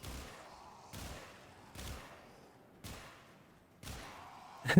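Gunfire in the Warframe video game: five separate heavy shots fired at roughly one-second intervals, each a sharp blast followed by a decaying tail, with a louder burst at the very end.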